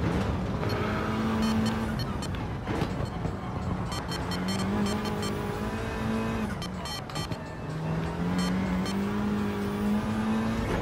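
A racing car engine in Gran Turismo 7 drones steadily with shifting pitch, its tone rising and falling through gear changes, mixed with background music and no talking.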